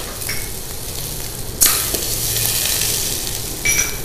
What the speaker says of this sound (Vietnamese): Đầu tiên các bạn phải cho nấm để xào nấm qua một chút.